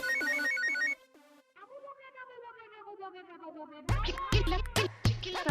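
A phone ringtone plays a repeating electronic melody, then a brief quieter musical passage, followed by louder chiming and knocking sounds, all with no speech, in a Hindi TV serial scene.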